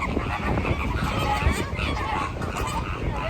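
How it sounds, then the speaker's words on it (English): Flocks of flamingos calling together, a dense goose-like chorus of honking from many birds, continuous and fairly close, with the honks overlapping throughout. "Those are the damn flamingos."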